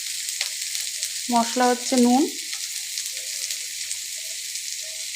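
Tomatoes and whole green chillies frying in a pan give a steady close crackling sizzle, broken once by a short spoken remark over the cooking.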